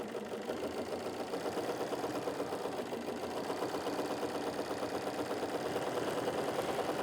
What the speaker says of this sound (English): I have my 3 millimeter double needle already threaded on my machine. So we're simply going to begin sewing.